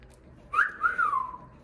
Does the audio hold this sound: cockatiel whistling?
yes